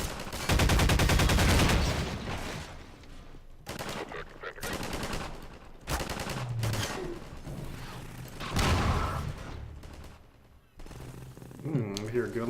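Gunfire crackles in Half-Life 2, a burst of rapid automatic shots up front followed by scattered bangs and game noises, with people talking over much of it.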